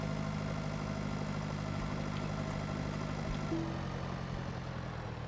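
Steady tractor engine drone from Pure Farming 2018 as the machine drives across a field, a continuous low rumble at constant level with no talking.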